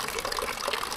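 Rainwater pouring and splashing into a container in the middle of a farmhouse lounge during a sudden storm, a steady close gush of running water with no voices.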